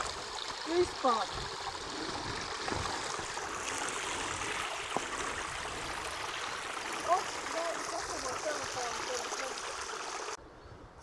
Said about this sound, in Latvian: esam nonākuši pie strautiņa